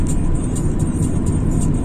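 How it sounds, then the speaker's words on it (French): A car speeding up along a road at night near Vitrolles, its steady loud engine and road roar filling the whole stretch close up, with no talk over it. "On va accélérer un peu, on va prendre de la distance là."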